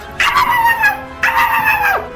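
Dog Rubble in GTA 5 giving two drawn-out whining barks or yowls, each about a second long and close, with no other sound between them.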